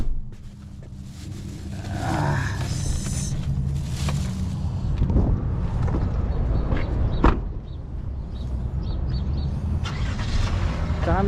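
A car moving along a road with steady engine and road rumble, a few clunks and a door-like bang partway through, with no talk.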